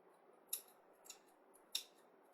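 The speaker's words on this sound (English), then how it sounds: "we're going to take just a hefty clump of dill and just cut it right in there" Scissors snip through a hefty clump of fresh dill over salmon being cured into gravlax, three crisp cuts spaced apart in a quiet room, close by and with no talk.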